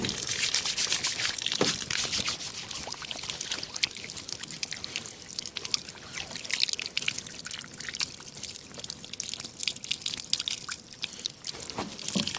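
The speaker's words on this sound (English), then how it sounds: "I'm gonna go wash my hands real quick." Tap water runs and splashes steadily as hands are washed at a family campsite, a continuous close trickle and pour with faint scattered drips throughout.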